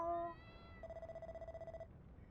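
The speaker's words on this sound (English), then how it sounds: "Oh, just a kitty, eh?" A cat in Dragon Quest Builders 2 gives a short, clear meow, followed by a steady, pulsing electronic tone, both faint and close with no talk over them.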